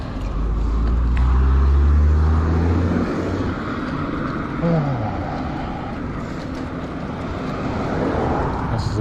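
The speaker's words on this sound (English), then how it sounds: "And this car is still following me." A car drives close behind a cyclist on a road, its engine hum loudest at first and then fading into a steady rolling noise, with wind rush throughout.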